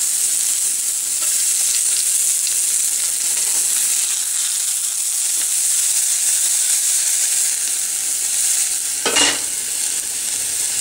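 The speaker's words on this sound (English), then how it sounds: "Add 1 teaspoon oil and 8 to 10 garlic chopped finely." Finely chopped garlic frying in a teaspoon of oil, a steady bright sizzle and hiss running throughout, with a single brief clatter near the end and no talk.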